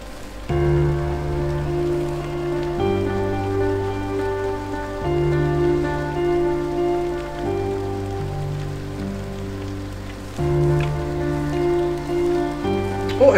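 Rain falling in a Minecraft-like video game, a steady hiss of drops on surfaces under looping background music with sustained tones, continuous and even at a moderate level, with no speech.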